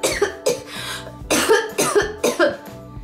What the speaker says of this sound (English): This is cough. Cough.